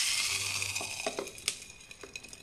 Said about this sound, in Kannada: ಒಗ್ಗರಣೆ ತೆಗೆದು ಚಟ್ನಿಗೆ ಹಾಕೋಣ